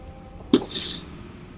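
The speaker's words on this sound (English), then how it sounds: "Sneezing again." A single person sneezes once, close and loud: a short sharp burst followed by a breathy hiss that trails off within half a second.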